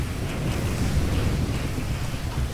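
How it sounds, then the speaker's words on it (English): Steady wind blowing in the video game GTA 5, a continuous rushing roar with no breaks, loud and alone without talk. "It's very windy."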